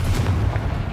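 A Confringo blasting spell explodes in Hogwarts Legacy, a deep, booming burst that fills the moment loudly, with a rumbling low-end body and no voices over it.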